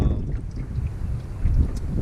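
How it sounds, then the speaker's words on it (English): Wind gusting over a jon boat out on open water, a steady low rumbling buffet of air and water noise that swells near the end, with no talk. "That wind is blowing me all over the place."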